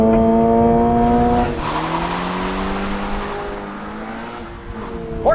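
A Toyota GR86 with a 2.4-liter four-cylinder boxer engine and manual transmission runs hard on a racetrack, its engine note loud and close, pitch sweeping across gear changes with a dip and recovery in revs.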